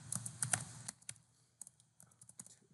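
Quick, irregular keystrokes on a computer keyboard while writing Python code for grain size analysis of a microscope image: close, light clicks in short bursts with brief pauses and no voice.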